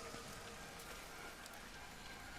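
Steady pouring rain in a video game, a dense even hiss of falling water on surfaces, faint and continuous with no other sounds.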